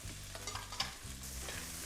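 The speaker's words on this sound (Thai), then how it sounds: "ผัดให้หอมเลย" Chinese sausage, dried shrimp and dried jujube are stir-fried in a pan, giving a steady close sizzle with scraping and stirring clatter and no talk.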